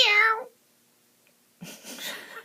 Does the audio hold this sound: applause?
no